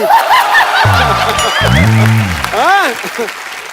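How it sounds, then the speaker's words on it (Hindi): Studio audience applause on a comedy talk show rises beneath a voice speaking in a drawn-out, sing-song manner, with scattered chuckles mixed into the clapping. "ठोको ताली"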